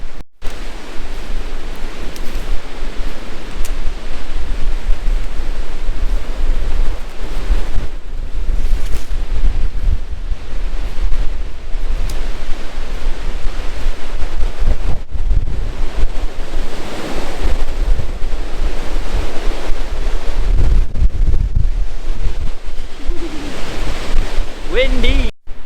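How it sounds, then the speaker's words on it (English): Strong wind roars steadily across the microphone, a loud, continuous rumbling buffet with gusty swells throughout. "Windy!"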